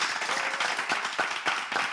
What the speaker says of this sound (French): Allez, on l'applaudit s'il vous plaît.